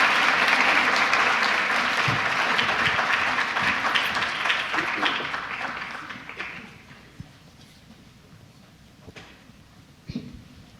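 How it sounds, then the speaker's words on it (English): Evening program audience applauding to welcome performers onstage, loud dense clapping that gradually thins and fades out over several seconds, leaving a few scattered claps and quiet room noise at the end. "Let's welcome them in a warm applause."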